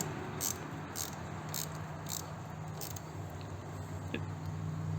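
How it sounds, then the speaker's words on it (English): Sharp ratcheting clicks in a few short bursts come from a bolt being tightened on Helibar handlebar risers for a Honda Goldwing motorcycle. They sit over a steady, noisy background hum. "And then tighten down that bolt that we loosened up for the wire loom."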